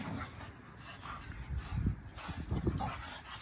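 Large dogs nearby giving short yips, whimpers and a few low barks in quick irregular bursts, moderately faint against background noise.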